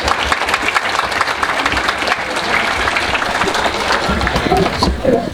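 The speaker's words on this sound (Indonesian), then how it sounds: "Yang ini yang saya baru minta kamu tepuk tangan." A church congregation at a Catholic sermon applauds, a loud, dense patter of clapping sustained throughout with crowd noise mixed in.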